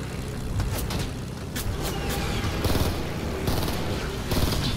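Rapid gunfire in the Fortnite battle royale video game, dense crackling shots in several bursts over a constant noisy background, with no talking.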